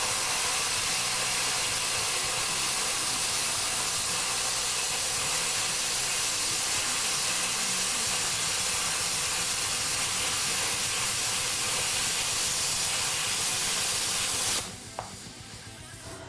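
An Arccaptain plasma cutter set to 55 amps hisses steadily while cutting through a 1/2 inch steel bar, a loud continuous rushing spray that stops abruptly near the end.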